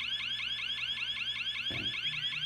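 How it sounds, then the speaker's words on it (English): A Bull Horn ATM door alarm going off, a loud, continuous warbling electronic siren that sweeps up and down in a steady rapid cycle, close and alone, with a brief low thump partway through. "So whenever the alarm goes off and you get that signal, you can decide what to do."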